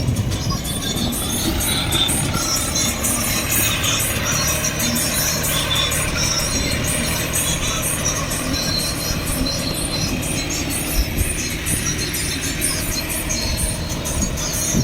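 A paddy harvesting machine working in a rice field gives off a continuous loud mechanical clatter and rumble with steady rattling, running throughout without pause.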